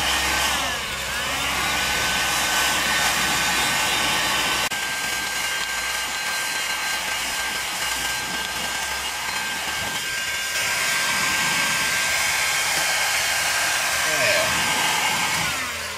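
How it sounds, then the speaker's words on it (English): Electrical service feeder conduit is heated so it can be bent, with a strong, steady blowing roar like a heat gun running close by. The roar shifts slightly in tone partway through but continues without pause. "now I'm just heating it up to try to bend it a little bit"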